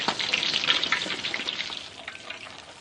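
Prawn and potato pieces with shiso leaves crackle and sizzle steadily in hot frying oil, a dense bubbling hiss that eases slightly toward the end.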